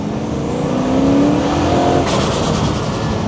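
A cheap turbocharged V8 TVR accelerates hard, its engine roaring loud and close with rising revs that climb, then a brief gear change and continued strong pull.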